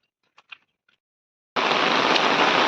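Heavy rain starts abruptly after a brief near-silent pause with a few faint sounds, then becomes a loud, dense, steady hiss for the rest of the clip.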